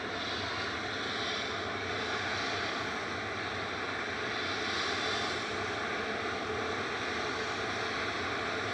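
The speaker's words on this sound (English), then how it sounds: "Oh, flight 1269 heading off to Paris Charles de Gaulle. This is HPNI and A22300 with geared turbofans." Air France Airbus A220-300 with geared turbofans departing Manchester Airport for Paris Charles de Gaulle, a steady, loud broadband jet roar with a whining tonal layer that holds throughout, no voices over it.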